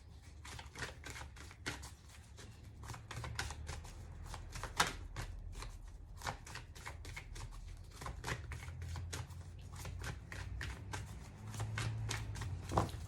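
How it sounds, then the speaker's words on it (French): Oracle cards being cut and shuffled by hand: quick, close riffling and soft slaps in irregular bursts, fairly quiet, with faint low background hum. "On va couper, on va mélanger parce que je sens pas les cartes sortir"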